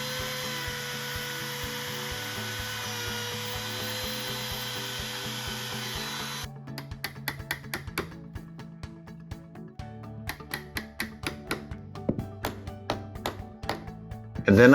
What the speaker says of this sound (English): Next, I notch out a space in the door jamb and threshold for the hinge.